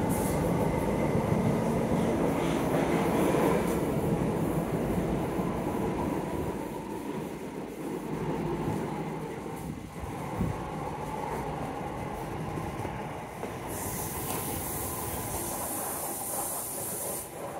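Inside a Southern train carriage running from Victoria to Epsom Downs, a continuous rumble and rattle of wheels on rail with steady hiss, shifting in level, and a brighter high whine near the end.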